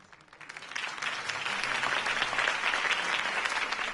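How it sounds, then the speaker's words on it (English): A crowd applauds in a Batman video game, the clapping swelling quickly from a few hands into a dense, steady roar that holds at full strength to the end. "could have heard that applause"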